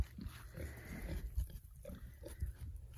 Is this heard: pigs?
yes